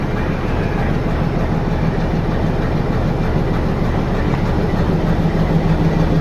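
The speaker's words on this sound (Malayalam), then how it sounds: "2 ട്രെയിനുകൾ മേട്ടുപ്പാളയത്തിലേക്ക് പോകാൻ സജ്ജമായിട്ടുണ്ട്" A metre-gauge Nilgiri mountain railway train bound for Mettupalayam sits at Ooty station, with a loud, steady low rumble and continuous engine drone throughout.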